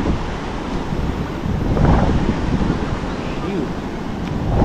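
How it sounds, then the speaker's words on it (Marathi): Sea waves wash ashore at Alibag beach, a continuous close surf roar that swells once and recedes, with wind buffeting the microphone. "लाट आली."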